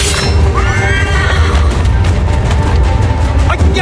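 A horse in the Assassin's Creed III video game neighs loudly and close, with a long shrill whinny over a dense, continuous rumble of game ambience and hoof movement.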